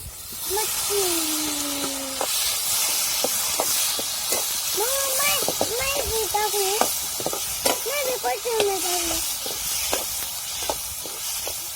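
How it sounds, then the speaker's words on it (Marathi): Moth beans being sautéed in black masala give off a steady close hiss and sizzle. Stirring noises and a voice run over the top, and faint tonal whines come and go. "आता मला त्यात टाकून घ्यायची मटकी"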